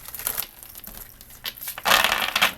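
Tarot cards are shuffled by hand in quick crisp riffles and rustles, irregular bursts with a louder flurry near the end, close up and without talk.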